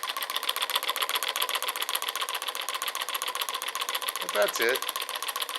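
A homemade piston-powered magnetic pulse motor with two coils runs at roughly 450 to 460 RPM, a fast, even mechanical clatter like a sewing machine, steady and close, with someone speaking briefly near the end.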